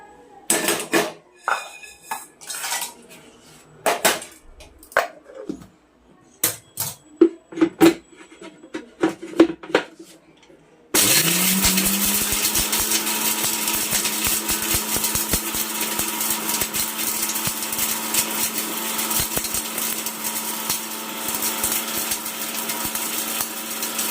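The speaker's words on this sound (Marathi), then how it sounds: "आता हे मी मिक्सरला फिरवून घेते" A mixer grinder grinding roasted tea masala spices starts abruptly after some clinks and taps, then runs as a loud, steady whirring drone for over ten seconds.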